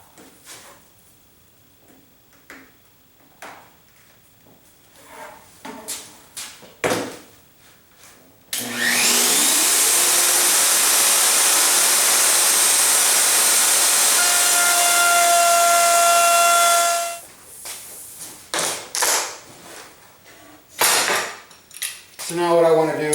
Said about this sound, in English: switch over to the track saw, the parallel guides, and I'm going to rip this down to